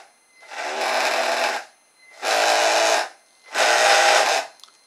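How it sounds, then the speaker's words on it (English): Electric motors of an RC rescue and recovery boat whine in three separate bursts, each spinning up, holding a steady high hum for about a second, then stopping, loud and close. "if I just want to use the left motor, I'll go forwards and backwards"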